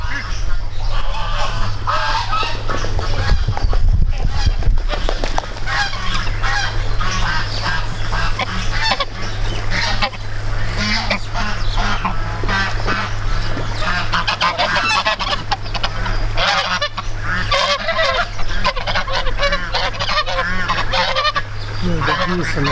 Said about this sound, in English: The geese and the ducks, a lot of ducks are there in the shade.